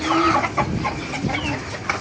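Several chickens clucking close by, short overlapping clucks and a brief higher call over a busy farmyard background.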